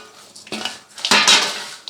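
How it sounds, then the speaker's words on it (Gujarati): A spoon stirs fried cashews, peanuts, raisins and coconut into poha chevda in a metal pan, giving close, scraping clinks and rattles in two short bursts, with no talking. "બધું મિક્સ કરી લઈએ."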